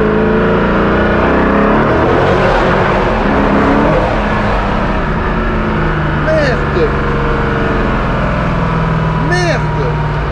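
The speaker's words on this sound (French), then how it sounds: "il va nous montrer le bruit de la voiture un peu." Koenigsegg Agera One:1 supercar engine rumbling and revving, a loud steady drone with rising and falling pitch, under people talking nearby.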